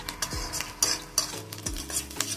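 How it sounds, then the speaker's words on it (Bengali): Chopped onion and garlic being stirred as they fry in a pan, with soft rhythmic scraping strokes of a spoon over a quiet, low sizzle. "পেঁয়াজ রসুনটা লাল লাল করে ভাজা হয়ে গেছে"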